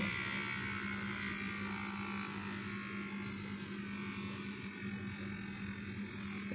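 A small 4-volt electric motor spins steadily in a homemade free energy generator, giving a continuous high buzzing whine close up with no pauses.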